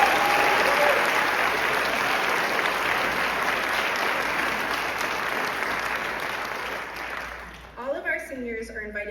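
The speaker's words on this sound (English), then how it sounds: "Please take a moment and give them a round of applause." Sustained audience applause at a high school graduation ceremony, a broad steady wash of clapping that slowly thins before a voice begins speaking near the end.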